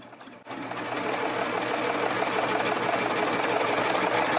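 A serger sewing machine stitches fabric for round-table placemats, starting abruptly after a brief quiet moment and then running as a fast, steady, loud mechanical hum with a rapid rhythmic chatter.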